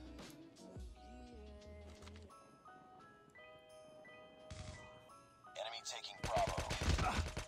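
Rapid AK rifle fire rattles in Call of Duty Mobile, a dense burst of repeated shots near the end after tonal game music and effects.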